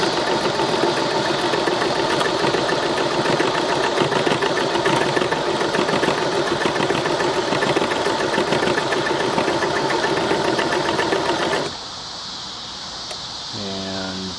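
A Dressmaker sewing machine running a triple stitch: a loud, close, continuous mechanical whir with rapid needle chatter that drops lower near the end, followed by a few slow clicks.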